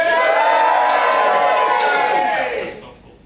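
An audience at a poetry slam cheers and whoops loudly for a few seconds, voices blending into a bright roar that fades out toward the end.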